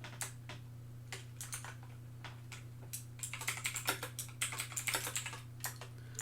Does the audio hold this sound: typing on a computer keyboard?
yes